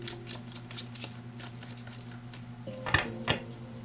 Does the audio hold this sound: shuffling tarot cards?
yes